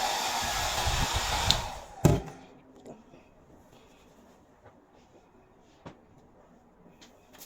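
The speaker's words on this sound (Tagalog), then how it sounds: "I-blower na natin para makita natin yung" A hair dryer blows on hair after a shower, a loud rushing whoosh for about two seconds before it cuts off, followed by a few scattered knocks and light handling sounds in a quiet room.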